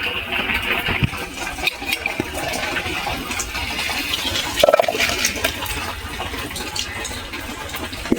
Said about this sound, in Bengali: আমি এবার নামিয়ে নিচ্ছি, বাটিটা ধুয়ে পরিষ্কার করা আছে, বাটিতে ঢেলে নিচ্ছি